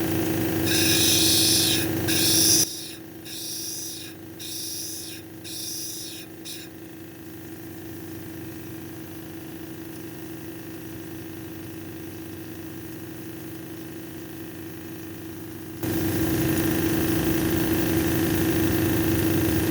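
A lapidary grinding wheel with 220 grit runs steadily while a red jasper cabochon is shaped against it, giving a continuous motor hum with rhythmic scraping bursts at first, then a quieter whir before the grinding noise swells again.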